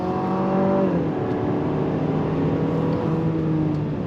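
A 2026 Infiniti QX60 Sport SUV pulls away on throttle with a steady, close engine drone whose tone rises and settles as it accelerates, with no voices.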